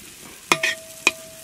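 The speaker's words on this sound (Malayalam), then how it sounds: "നന്നായിട്ട് ഒന്ന് ഇളക്കി കൊടുക്കുക എണ്ണയിൽ" A spoon stirs beef vindaloo masala, Malappuram style, as it fries in oil in a pan, making two or three sharp, close scrapes over a faint sizzle, with no talking.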